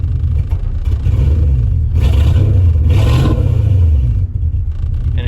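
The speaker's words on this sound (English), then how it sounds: "I can rev it up." A 1997 Ford Mustang engine, just fitted with a new idle position sensor, rumbles close by and is revved up, its pitch climbing and falling back in a couple of surges over a steady low idle.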